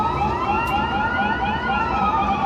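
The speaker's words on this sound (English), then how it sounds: "We got motherfucking ambulances in Miami." Ambulance sirens in Miami wail loudly with overlapping sweeping tones that rise and fall continuously, close and dominant, with no speech.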